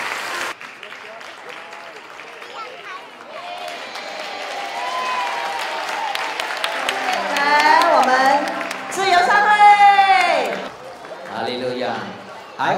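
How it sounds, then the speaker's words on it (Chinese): A church congregation applauds during a Sunday service children's ministry evening, with sustained clapping that swells and fades and voices heard over it. "掌声给上帝"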